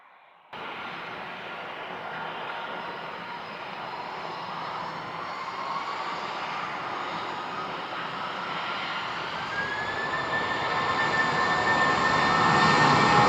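An airplane takes off from the runway at Sangster airport, its engine roar starting abruptly and swelling steadily louder and higher over the whole stretch, with no talking.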